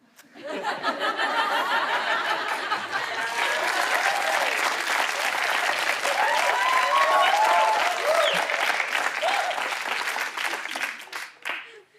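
A studio audience breaks into loud sustained applause during a comedy show, the clapping swelling quickly, holding full for several seconds, then tapering off, with some laughter mixed in.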